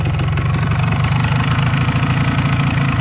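An MZ ETZ 250 motorcycle engine idling warm close by, a steady loud chugging rumble with an even pulsing rhythm.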